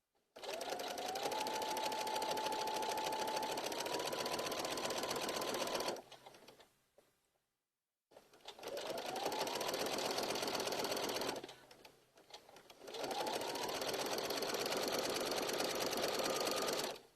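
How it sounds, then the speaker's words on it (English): A sewing machine runs a basting stitch close to the edge of quilting fabric for an Easter basket, in three steady, loud bursts of whirring separated by short pauses. "I'm going to change it to a basting stitch. And I'm just going to sew it really close to the edge."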